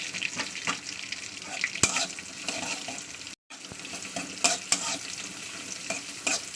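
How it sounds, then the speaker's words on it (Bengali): Chopped onions with green chillies sizzle steadily in oil in a pan as they brown, with a bright continuous hiss, scattered spatula scrapes and a momentary dropout midway; no one speaks. "পেঁয়াজটাকে একটু লালে করে ভেজে নিতে হবে"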